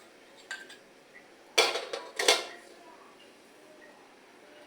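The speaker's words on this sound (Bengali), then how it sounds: "ঢাকনা দিয়ে ঢেকে দিলাম।" A lid set down on a cooking pot of village-style eggplant, potato and pumpkin bori curry: two or three close metallic clanks in quick succession, with faint lighter clinks before them.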